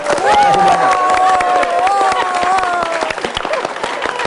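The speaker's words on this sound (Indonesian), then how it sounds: "Coba sekarang tepuk tangannya, tepuk tangan orang sukses." A seminar audience bursts into loud, energetic applause, with crowd cheering and voices rising over dense, rapid clapping that stays strong and thins slightly toward the end.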